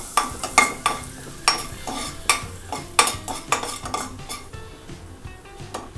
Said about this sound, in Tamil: இதில் நம்ம எடுத்து வச்சுருக்கேன் இந்த பட்டை, கிராம்பு, ஏலக்காய், அப்புறம் வந்து சோம்பு இதெல்லாம் வந்து நம்ம சேர்த்துடலாம்.